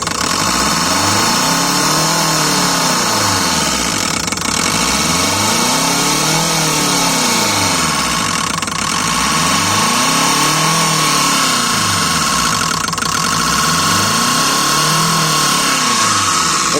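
Ford Mondeo 1.6 EcoBoost fuel injectors spraying on a test bench at high pressure, a loud continuous mechanical drone with a rhythmic pulsing cycle repeating roughly every four seconds, no talking.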